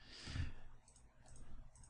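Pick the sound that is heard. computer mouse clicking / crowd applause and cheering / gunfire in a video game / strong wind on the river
computer mouse clicking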